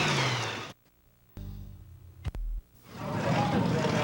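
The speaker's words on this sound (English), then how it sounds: "let's go on board with Paul Jensen and let you listen to the horsepower of the Monsters of Destruction trucks" Onboard sound of Monsters of Destruction monster truck engines revving in 2005 competition: loud roaring bursts broken by abrupt silences and sharp cut-ins, then building back to a sustained engine roar.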